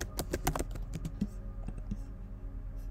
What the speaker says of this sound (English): I'm going to type meet our team.